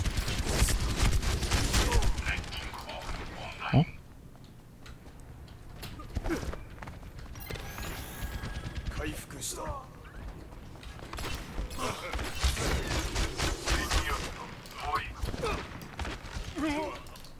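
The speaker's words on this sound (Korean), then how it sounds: "저 맥클이 엄청 잘 쏜다." Rapid bursts of McCree's gunfire in the video game Overwatch, repeated shots mixed with footsteps and game effects, under excited commentary from someone talking.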